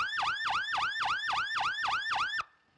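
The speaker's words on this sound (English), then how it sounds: "when we switch the siren on, in the up position, we can change the tone or the pace by pressing the button" A fire apparatus siren wails in a steady rapid yelp, about seven rising-and-falling sweeps in under two and a half seconds, loud and close, then cuts off abruptly.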